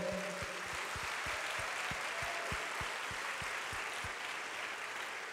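A church congregation at a Wednesday worship service applauds, a soft, steady wash of clapping with a distant low rhythmic thump pulsing underneath.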